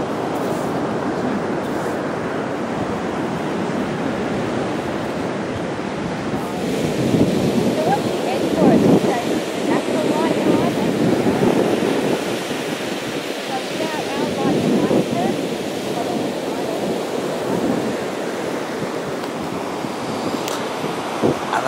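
Ocean waves on the beach at Mon Repos, rolling surf breaking and washing in repeated swells, close and loud, with wind buffeting the microphone.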